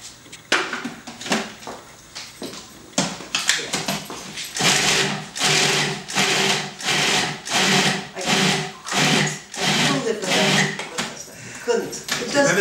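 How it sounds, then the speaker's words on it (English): Food processor pulsing in repeated short bursts to mince soup ingredients, about eight even whirring pulses in a row, close and loud, with speech and kitchen clatter in the opening seconds. "I am also mincing in the food processor, using the pulse button for everything."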